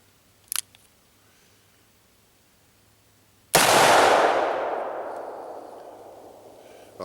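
A single loud gunshot from a .44 Magnum revolver firing Hodgdon H110 handloads cracks out alone after a faint click, its long echoing boom decaying slowly over several seconds.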